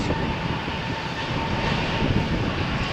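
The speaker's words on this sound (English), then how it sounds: "Turkish flight is cleared for takeoff." A Turkish Airlines jet rolls for takeoff on runway 13 at Malaga Airport on a stormy morning, its engines a broad, steady roar that swells slightly, heard from a distance without voices.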